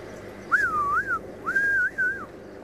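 A person whistles two short warbling phrases imitating a bird call, clear and close against faint outdoor safari background noise.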